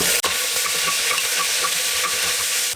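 Urad dal frying in hot oil with mustard seeds, cumin, chilli and curry leaves gives a loud, continuous close sizzle and crackle that stays dense and even throughout, with no talking.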